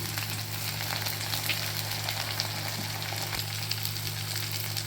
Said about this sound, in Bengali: হলুদ গুঁড়ো দিয়ে দিচ্ছি, লঙ্কার গুঁড়ো, এগুলোকে ভালো করে ভেজে নিচ্ছি।